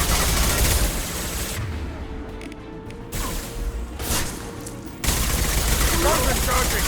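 Sustained gunfire in the Mass Effect 2 video game during a fight with a Krogan: loud rapid bursts that drop out briefly mid-clip and return heavily at the end. A game voice speaks over it.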